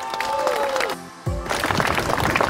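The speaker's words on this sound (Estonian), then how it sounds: "teie aplausi saatel" An on-stage audience bursts into a dense, steady wash of clapping, welcoming a speaker. A brief tonal sound precedes it before the applause swells and carries on to the end.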